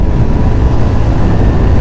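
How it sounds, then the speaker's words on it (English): A Ducati Streetfighter V2 motorcycle engine-brakes into a corner on a road ride, producing a loud, continuous low rumble mixed with heavy wind roar and no talk over it. "Engine brake in there, just into that corner."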